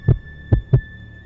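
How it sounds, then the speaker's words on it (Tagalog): A heartbeat sound effect gives three deep, close thumps in quick succession over a steady low hum. "Mabilis ang tibok ng puso ko."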